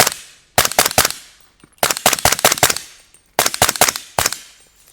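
Suppressed Daniel Defense M4 PDW in .300 Blackout firing subsonic rounds: three quick strings of sharp, loud cracks, each a rapid burst of several shots with brief pauses between strings and no talking.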